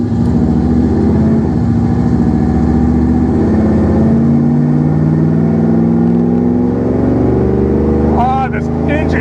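A 1968 AMC Javelin engine runs loud and steady from inside the car, its rumbling note shifting as it revs and pulls, with a brief voice near the end.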